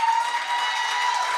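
An audience at an anti-crime town hall meeting gives a brief burst of steady clapping, fairly close and even in volume.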